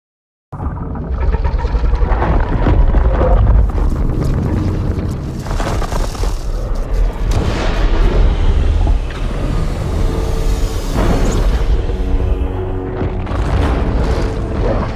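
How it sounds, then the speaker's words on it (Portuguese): A loud, sustained electric explosion effect bursts from a Pokéball, opening with a sharp blast and then rolling on as a dense, continuous boom and rumble that holds steady for the whole stretch. "Da Pokébola saiu uma explosão elétrica"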